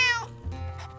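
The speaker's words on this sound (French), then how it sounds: "Miaou. La chatte presse la tête contre votre paume et ronronne joyeusement." A cat meows once, close and clear, a short bright cry in the Drova video game, followed by soft low purring-like sound.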